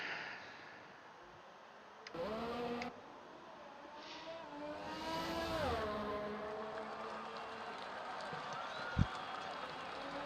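Formula 1 cars race in F1 2019 at the Italian Grand Prix, engine whines rising and falling as cars pass at moderate distance, with crowd noise and a commentator talking over them.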